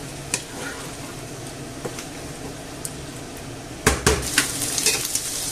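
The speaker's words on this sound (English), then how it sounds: "this is frying nicely" Quiet, steady sizzling of pork frying in a pan, with a few sharp clinks and a burst of utensil scraping near the end.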